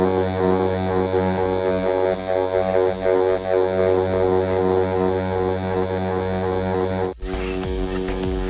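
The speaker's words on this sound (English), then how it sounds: "The buzzing's a lot more aggressive sounding when you're pressing harder" A tattoo machine buzzes steadily in a harsh, hum-like drone as the needle is pressed harder during shading, close and continuous, with no voices. The sound stops abruptly near the end.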